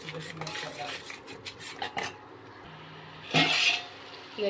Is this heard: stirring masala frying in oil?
yes